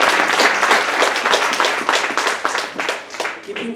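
A church congregation claps together, loud, dense and close, in a rippling burst that thins out toward the end.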